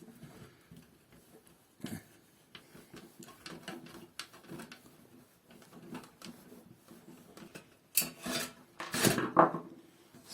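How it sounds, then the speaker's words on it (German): Four screws being taken out of the fan of a PC power supply: soft scraping and small clicks of a screwdriver, then a louder burst of metallic rattling and clatter toward the end. "Der hat natürlich hier auf der Seite die 4 Schrauben, die machen wir natürlich jetzt hier raus."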